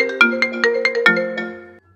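A mobile phone ringtone plays a bright, repeating chiming melody of about eight rapid notes, fairly loud and close, cutting off abruptly after under two seconds with no voices.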